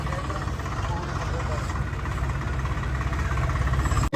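A tractor engine runs while the tractor sits stuck in mud, giving a loud, steady low rumble and drone that holds unbroken for the whole stretch.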